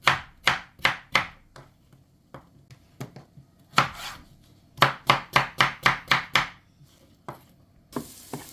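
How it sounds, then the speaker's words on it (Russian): A knife chops zucchini into cubes on a cutting board, sharp rhythmic thuds coming in quick runs with short pauses, close and clear, no talking. "Нарезаем их также кубиками"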